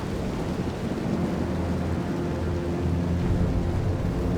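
Steady rain with rolling thunder on a medieval battlefield in the strategy game Total War: Medieval II, a dense continuous wash of rainfall under low, drawn-out rumbles, with no voices.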